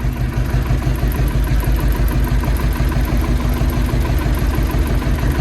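An Ursus C-330 tractor pulling a trailer of wood creeps along slowly in first field gear, its engine chugging in a steady, loud, close rhythm throughout with no pauses.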